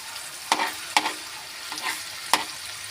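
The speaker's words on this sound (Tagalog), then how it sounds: "Kasi sinabay ko na yung itlog sa pagluto." Tocino and egg fry together in a pan, a soft steady sizzle underneath a few sharp scraping stirs and clacks of a utensil, close and fairly quiet.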